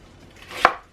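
A single crisp knife chop through a yellow onion on a cutting board, one sharp close thud standing alone in a quiet kitchen.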